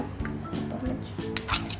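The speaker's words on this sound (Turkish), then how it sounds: "Kivi doğrayayım bir de." Repeated knife taps and clinks against a plate as kiwi is sliced, a quick irregular rhythm close by with faint background murmur.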